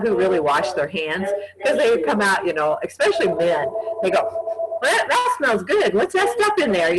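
A telephone rings indoors, with a steady electronic tone partly buried under a person talking close by.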